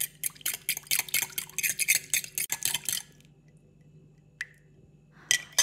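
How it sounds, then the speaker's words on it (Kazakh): Warm butter is stirred with salt and an egg white in a bowl for a meat pie, producing a quick run of close clinking and scraping strokes that stops, followed by a couple of isolated taps. "Сармайдың үстіне жарты шай қасық тұзбен бір жұмыртқаның ақуызын салып жақсылап араластырамыз."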